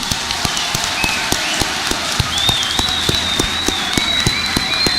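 A large crowd at an outdoor French political rally bursts into sustained applause and clapping, dense and steady throughout, with occasional whistles rising above the sound.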